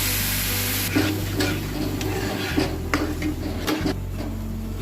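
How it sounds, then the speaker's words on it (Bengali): Semolina being stirred with milk in a pan on the stove as a dough for suji modak forms, giving steady close scraping and stirring noise with soft sizzling and a few sharper spoon clinks. "সুজিটা নাড়তে নাড়তে শুকনো করে একটা ডোয়ের আকারে বানিয়ে নেব।"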